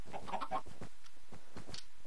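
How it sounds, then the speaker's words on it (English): Several short chicken clucks from a Minecraft chicken, moderately close, in a quick irregular burst with game background sound and no talking. "Here's a chicken."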